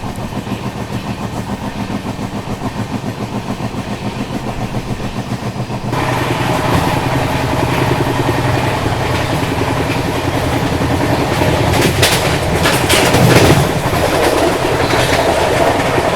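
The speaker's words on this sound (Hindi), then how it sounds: "ये वाली जो आप लोग गुड्स ट्रेन आते हुए देख रहे हैं ये आ रही है आप लोगों की लाल कुआं जंक्शन की ओर से।" A goods train passes close by at Rampur Junction, a loud continuous rumble with rhythmic clickety-clack of wagons on the rails, growing harsher and brighter partway through as the cars roll past.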